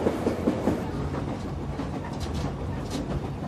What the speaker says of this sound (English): I believe it's one of the last flag stop trains available in the United States